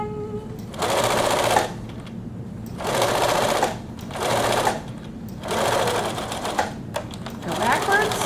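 A sewing machine stitches the hood of an atikłuq in four or five loud whirring bursts of a second or so each, separated by short pauses while the fabric is shifted, close up with no talk over it.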